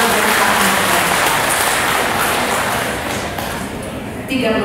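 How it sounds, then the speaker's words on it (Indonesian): Large audience applauding steadily at a formal organizational gathering in Indonesia, a dense continuous wash of clapping that thins slightly near the end. "Kita kasih aplaus yang luar biasa."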